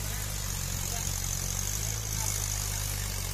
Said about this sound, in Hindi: इतना अच्छा महिंद्रा 415 यू रोटावेटर से जोताई कर रहा है